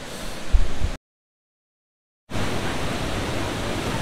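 Karura waterfall in the forest near Nairobi, Kenya, sounds as a steady broadband rush of falling water, cut by about a second of silence before the roar resumes.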